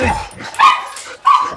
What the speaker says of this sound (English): Oh, it's a dog invasion.